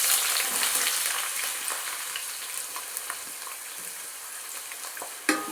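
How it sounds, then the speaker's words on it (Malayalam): Shallots fry in hot coconut oil with a dense, continuous sizzle that fades slightly over time, broken by a few crackles and a sharp pop near the end. "അതിലേക്ക് ഞാൻ തനിച്ചെടുത്തിരിക്കുന്നത് ചെറിയ ഉള്ളിയാണ്, വലിയ ഉള്ളി ഇല്ല"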